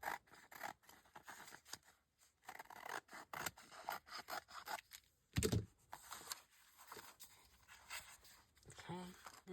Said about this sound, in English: We're going to cut from the bottom.